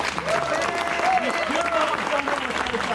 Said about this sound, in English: put a round of applause for Jill and her family